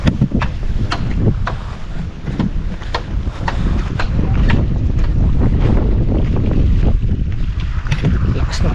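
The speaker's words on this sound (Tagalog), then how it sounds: "Lakas ng patubig oh" Strong rushing flow of irrigation water pouring through a rice paddy channel, a loud steady wash with wind buffeting the microphone throughout.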